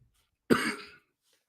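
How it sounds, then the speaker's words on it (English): A single short, harsh cough bursts out close by, then silence. "Excuse me for coughing."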